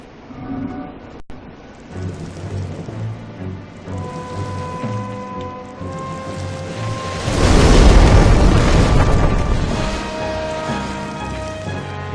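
Fire bombs burst in Demon's Souls, a heavy rumbling explosion swelling loud around the middle over a low, droning game soundscape with a few smaller booms.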